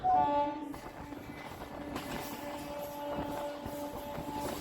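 A Howrah to Digha local train running, heard from on board as a steady rumbling roll with faint rhythmic clatter, plus a brief tonal whine at the start, moderate and continuous with no talk.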